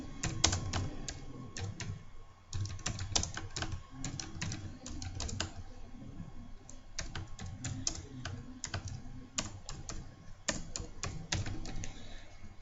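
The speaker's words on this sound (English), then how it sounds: "So I can type my company name." Rapid bursts of typing on a computer keyboard at an office desk, close and fairly quiet clicking with short pauses between words, over a low steady background hum.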